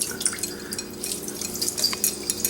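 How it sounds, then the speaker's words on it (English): Lemon juice squeezed into a big pot holding 4 quarts of water, heard as quiet irregular drips and small liquid splashes, close and faint, with no talking. "So we're going to start squeezing these lemons in here."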